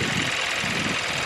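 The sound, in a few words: Hyundai Sonata car engine running at idle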